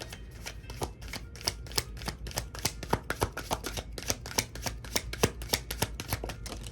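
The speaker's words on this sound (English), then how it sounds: "All right, fine. I'll chaos shuffle." Rapid, irregular clacking of playing cards being chaos shuffled by hand, a steady run of crisp snaps close by with no talking.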